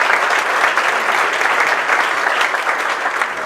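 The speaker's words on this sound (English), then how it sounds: "Big round of applause for them here tonight." Wedding guests at an evening reception break into sustained applause, a dense, loud wash of many hands clapping at once that holds steady throughout.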